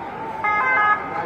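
An ambulance siren at a hospital during unrest, heard as a loud, nearby wailing electronic tone that rises and holds briefly, standing alone with no talking.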